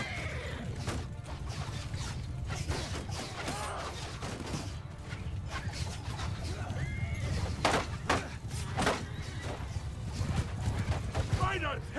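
Horses whinny and neigh amid a busy medieval battle in Mount & Blade 2: Bannerlord, with clattering hooves, clashing weapons and crashes in a dense, continuous din, while someone talks over it at times.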